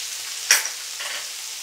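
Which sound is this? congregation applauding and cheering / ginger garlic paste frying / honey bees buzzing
ginger garlic paste frying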